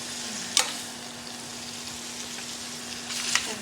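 Chicken pieces frying in a pan for stew chicken, a steady close sizzle with a constant hum underneath and two brief louder crackles near the start and end.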